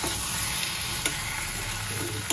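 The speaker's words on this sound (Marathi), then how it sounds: "वाटण चांगलं परतून घ्यायचं" Spice paste sautéed in a pan with turmeric, salt and lemon, giving a steady close sizzle and hiss with a few soft scrapes of stirring, no voices.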